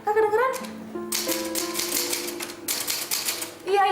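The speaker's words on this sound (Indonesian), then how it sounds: "Mesin tik tua ini penyebabnya. Udah reot, suaranya berisik banget." An old, rickety typewriter clatters noisily in a steady burst of rapid key strikes, with voices talking just before and after the typing.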